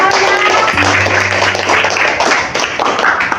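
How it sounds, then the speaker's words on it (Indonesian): Classroom of students applauding a classmate's conclusion, steady loud clapping from many hands throughout, with a brief tone sounding underneath. "berikan aplaus dulu buat"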